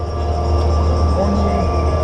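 A Vekoma boomerang roller coaster train climbs the lift with a steady, loud mechanical rumble and hum, unbroken for a couple of seconds, close by.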